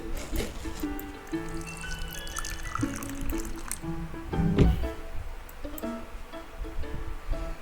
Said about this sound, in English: Just pour the water.